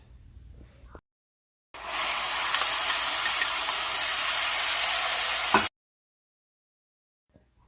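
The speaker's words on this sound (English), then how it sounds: "I love the sound that it makes when you add some liquid into this" Oyster sauce hitting rice in a hot pan for a teriyaki chicken rice bowl, a sudden loud, steady sizzle and hiss lasting several seconds before cutting off abruptly.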